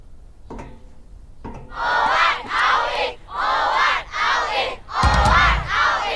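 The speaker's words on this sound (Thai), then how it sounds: "มักจะมีเสียงอังกอร์จากมนุษย์เด็กนักเรียนเสมอ" A crowd of schoolchildren cheers and shouts in repeated rising bursts, loud and energetic, with a thump near the end.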